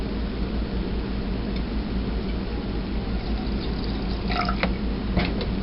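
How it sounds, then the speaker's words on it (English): Lemon juice is poured into a moonshine still, a steady close liquid pour with a few drips and splashes near the end. "while I'm pouring the lemon in."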